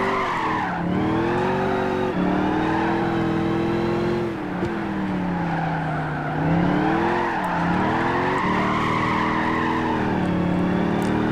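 Truck tires skidding sideways in Gran Turismo 5, a sustained loud engine whine with sliding tire squeal, pitch rising and falling through gear changes and drifts, close and steady with no talking.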